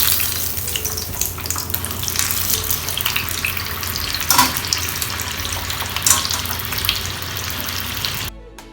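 Dynamite shrimps deep-fry in hot oil with a dense, steady crackling sizzle and occasional louder pops, close and continuous, with no talking, before the sound cuts off near the end.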